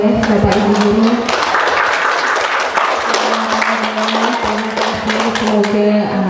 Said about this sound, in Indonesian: Mari kita berikan tepuk tangan dulu, boleh Bapak Ibu Guru.